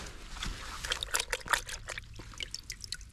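Water trickling and splashing while mud is rinsed off a sifted Native American artifact such as worked flint, heard up close as an uneven stream of soft drips and spatters.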